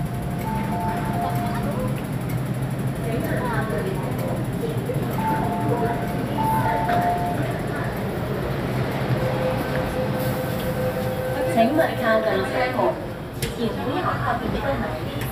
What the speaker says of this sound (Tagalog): The train to Taiwan is arriving.